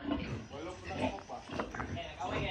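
Pigs grunting and oinking at a farm during a weigh-in for sale, the snorts recurring irregularly close by and mixed with people talking.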